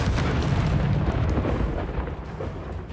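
An Incendio fire spell blast in Hogwarts Legacy erupts as a loud, dense roaring burst that starts at full force and slowly rumbles down over a few seconds.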